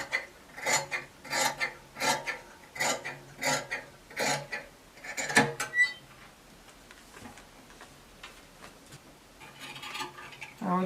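Scissors snip through fabric for a pinafore dress in a regular run of crisp, close cuts, each a short rasping crunch, before the cutting slows to softer, scattered snips and rustles.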